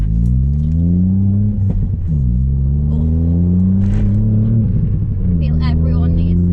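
A Ford Fiesta ST MK8 fitted with a KMS Motorsport Hurricane dual exit exhaust growls loudly and close up, its engine note rising through revs, briefly dropping and then climbing again.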